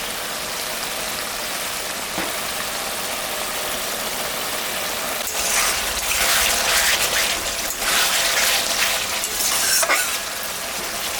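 A ground paste of ginger, cumin, and green and red chillies fries in a pan for a koi fish curry. It makes a steady hiss that swells into louder crackling sizzle bursts partway through, with no talking.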